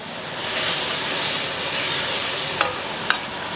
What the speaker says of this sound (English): Then you dump this on. Garlic. And then stir them.